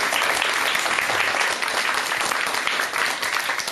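Steady, dense audience applause welcoming a doctor's lecture on self-love, loud and even across the whole short stretch with no break.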